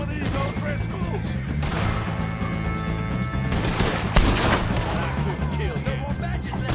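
Dense shootout gunfire from Red Dead Redemption 2 against the O'Driscolls: rapid overlapping shots and sharp cracks, loud and close, with a heavier blast partway through.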